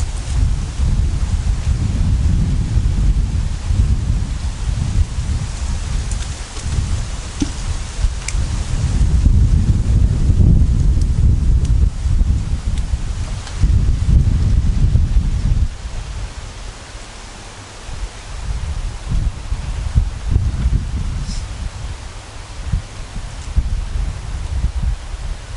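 Wind gusts roar across the microphone at a campsite in Potts Preserve, a loud rumbling buffeting that swells and eases over time with faint rustling behind it.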